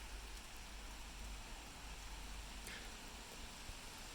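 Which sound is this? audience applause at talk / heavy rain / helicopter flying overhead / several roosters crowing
heavy rain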